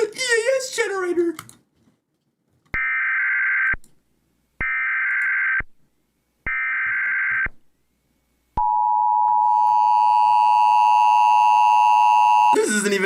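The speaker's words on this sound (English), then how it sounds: "Oh, it's the EAS generator." Fake Emergency Alert System generator output: three loud, evenly spaced steady data-burst tones, then a long continuous alert tone, with a voice talking briefly at the start.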